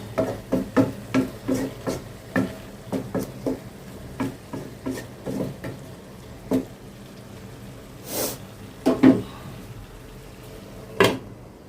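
A spoon stirs cooking greens in a pot, with about a dozen quick, evenly spaced scrapes and knocks against the metal, followed by slower, scattered clatters and a couple of louder clanks.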